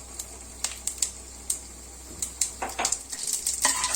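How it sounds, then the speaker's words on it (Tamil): Mustard seeds, urad dal, fenugreek and fennel pop and splutter in hot oil, sharp crackles scattered at first and then thickening into a busy, continuous sizzle near the pan. "கடுகு, உளுந்து, வெந்தயம் எல்லாம் பொரிஞ்சிருச்சு."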